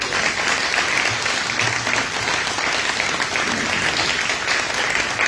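An audience at a community club gives a sustained round of hand clapping, a dense, steady patter of many hands that holds at an even level for several seconds.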